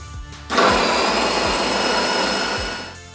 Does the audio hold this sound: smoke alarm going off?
no